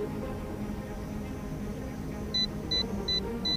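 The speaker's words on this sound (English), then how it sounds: "now I'm getting an alarm on the radio control transmitter at just over 6 minutes" A JJRC H55 Tracker GPS FPV drone's radio control transmitter sounds its low battery alarm, four short high beeps in an even rhythm over a steady background hum.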